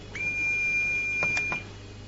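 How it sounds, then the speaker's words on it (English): A quiz contestant's bell or buzzer at a Ghanaian school science and math quiz gives one thin, steady electronic tone lasting about a second and a half, with faint clicks near its end. "When you ring the bell, it means you have a response."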